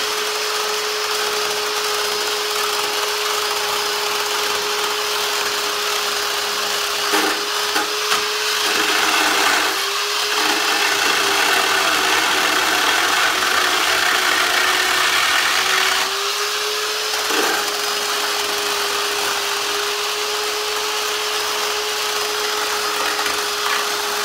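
A power tool roughs up the surface of a wooden board for a rustic cart, a loud, steady motor whine with gritty abrasive scraping that dips briefly a few times as the tool lifts and resumes.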